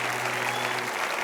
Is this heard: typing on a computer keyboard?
no